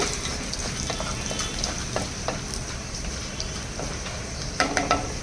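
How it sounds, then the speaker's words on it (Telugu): Chana dal and two dried red chillies fry in hot oil in a pan, giving a steady close sizzle with small crackles and pops throughout and a few louder spits near the end, with no talking. "ఒక స్పూన్ పచ్చిసరిపప్పు వేయాలి అలాగే రెండు ఎండుమిరపకాయలు కూడా కుచ్చేసి వేసుకోవాలండి ఇవి బాగా వేయించాలన్నమాట"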